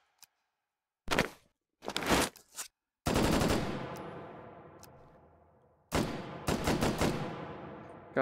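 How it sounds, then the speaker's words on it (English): A Browning automatic rifle fires in the H3VR virtual-reality shooter: two short bursts, then a longer burst whose echo fades over several seconds, and finally a rapid string of loud shots, with no talking. "The Browning automatic rifle's back."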